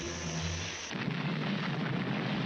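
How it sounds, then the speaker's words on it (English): A cartoon explosion erupts with a sudden broad roar and rumble after a brief tonal lead-in, filling the rest of the moment with loud, sustained crackling noise and no voices. "That explosion really smashed you up."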